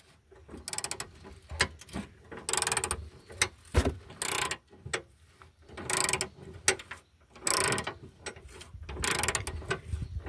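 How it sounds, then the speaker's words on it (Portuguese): Wrench being turned with a support handle on a fitting, giving repeated metallic ratcheting clicks and scraping bursts in irregular close strokes, with no talk. "Peguei o apoio da chave ali para poder rodar mais fácil aqui."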